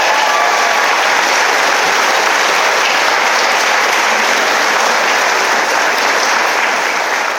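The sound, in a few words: audience applause for award winners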